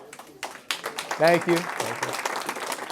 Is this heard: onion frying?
no